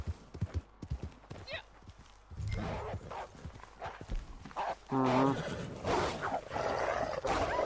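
Horse hooves clip-clop in the video game Red Dead Online, mixed with voices, rustling and other game sounds throughout.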